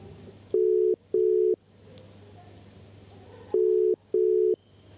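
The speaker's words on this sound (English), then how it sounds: "I need to make a phone call quickly" Repeated telephone ringback tone during a quick phone call, pulsing in two pairs of steady beeps with a pause between, heard over faint background hum and murmur.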